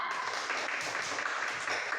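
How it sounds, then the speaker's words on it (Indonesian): Classmates clap for a student group after its presentation in a school lesson, a short burst of continuous applause from a small indoor group. "Tepuk tangan buat kelompok 2."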